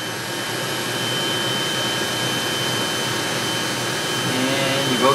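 Hard drives spin up inside a storage server, a steady whirring whoosh of drives and fans holding at an even level with a faint rising tone near the end.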